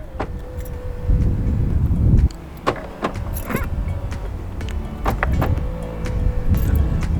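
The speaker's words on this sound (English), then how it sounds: "I do love a foldy-in wing mirror." The electric wing mirrors of a Hyundai i30 N Line Fastback fold in on locking with a steady motor whine, broken by a few sharp clicks and clunks, close by over outdoor rumble.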